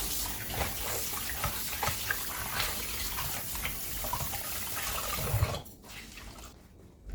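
Running water from a kitchen tap as an oily cloth is washed under it, a steady close hiss with light splashing that cuts off near the end, with no speech.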